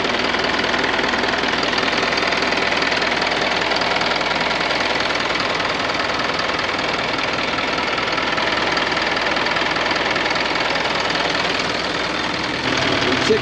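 A 6-ton truck's high-mileage diesel engine idles steadily with an even, rough mechanical chatter, close and continuous throughout.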